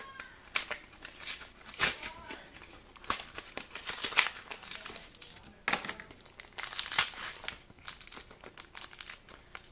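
Foil wrappers of Pokémon Plasma Storm booster packs crinkle and tear in repeated close bursts, with quieter gaps of card handling between them and no talking.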